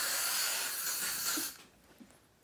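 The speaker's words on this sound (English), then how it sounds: "Oh my god, I sprayed it all over my face." Axe body spray hisses from an aerosol can in one loud, close burst of about a second and a half, then cuts off into quiet.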